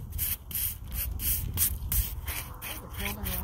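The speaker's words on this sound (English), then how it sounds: "we use this to scrub the rock down. Very lightly, just wherever we've got cement on it" A brush scrubs cement off the rocks of a retaining wall with repeated rough, hissing strokes in an uneven rhythm, close up and moderately loud, and no one speaks.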